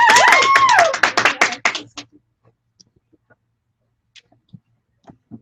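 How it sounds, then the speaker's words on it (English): A small crowd at a success-night event claps while someone whoops loudly. The applause quickly thins into a few scattered claps and taps that trail off into near silence. "Give a round of applause."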